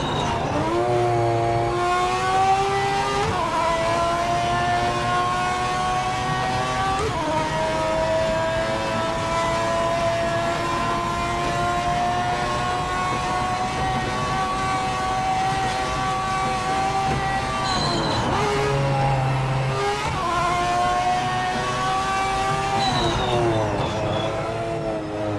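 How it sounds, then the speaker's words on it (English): A race car engine in the video game Project Motor Racing revs steadily and loudly at high pitch, rising through the gears with brief shifts and dips across a long continuous run, with no talk over it. "God, this car sounds beautiful."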